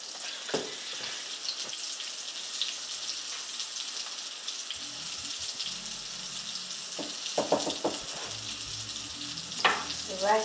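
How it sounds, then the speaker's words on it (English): Corn steaming in a cooking pot during home meal prep, giving a steady hiss and bubbling sizzle throughout, with a few brief clinks and soft knocks of utensils near the end. "Corn is steaming, nice and hot."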